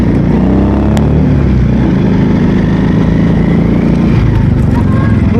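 A Regal Raptor Spyder V-6 250-RR FI cruiser motorcycle with a 250cc fuel-injected engine runs steadily and loudly, its deep, continuous drone holding throughout with no break.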